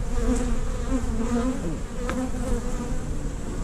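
A dense swarm of honey bees, cut out from under a second-story floor, buzzing steadily and loudly up close with a few rising and falling pitch swoops.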